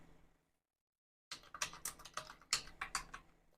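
A short burst of computer keyboard typing starts after a second of silence, with quick, close, crisp keystrokes in an uneven rhythm.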